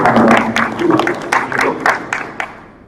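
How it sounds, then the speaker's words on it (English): A modest audience at a digital business summit claps for a panel, with distinct individual claps close by that thin out and fade within a few seconds. "let's give a big applause for the panel"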